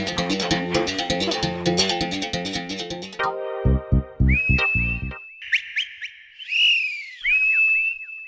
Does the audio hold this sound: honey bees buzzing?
no